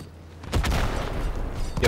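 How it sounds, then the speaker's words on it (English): A short burst of rapid machine gun fire from the video game Halo, loud and dense, starting after a brief quiet lead-in and running to the end. "Oh, he's about to get that Halo machine gun kill."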